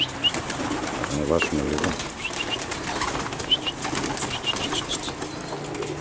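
White pigeons on a small rooftop coo and flap their wings, with soft coos and fluttering bursts under an outdoor hum while someone talks nearby.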